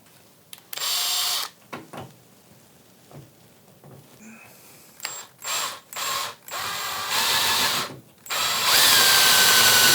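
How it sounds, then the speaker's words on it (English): A power drill with a 3/4 inch bit bores into wooden floor support, in short whirring bursts with pauses between and one longer run at the end, close and loud. "I have room to drill a hole through this floor support"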